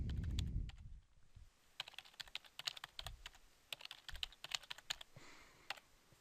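Typing a password on a computer keyboard: after a brief low thump, a close run of crisp, irregular key clicks comes in quick bursts with short pauses, quiet and alone.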